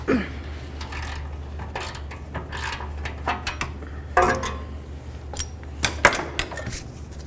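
A ratchet unscrewing the upstream O2 sensor on a 2009-2020 Dodge Journey exhaust, giving scattered close metallic clicks and clacks in short bursts over a low steady hum, with no speech.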